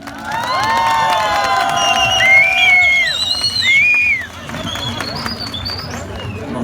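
An audience breaks into loud sustained applause and cheering, with whoops and shouts over dense crowd noise, welcoming the poet Aly Zaryoon onto a stage for an interview before the noise eases slightly.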